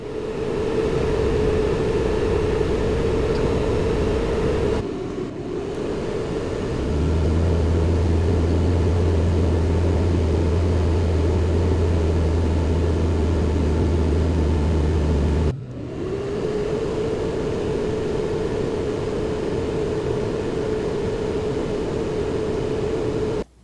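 A wind tunnel fitted with drag-style turbine blades roars in a steady, loud broadband rush. It pauses briefly twice, and a low hum rises underneath through the middle stretch.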